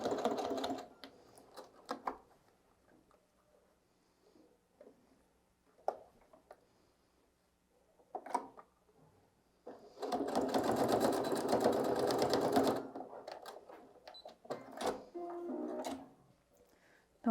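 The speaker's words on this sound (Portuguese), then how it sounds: "Então, costurei a mesma coisa aqui, vira, dobra e costura de novo." Sewing machine stitching fabric for a toiletry bag: a steady mechanical whirr of rapid needle strokes runs for about three seconds, set among quiet handling clicks and soft rustles of fabric.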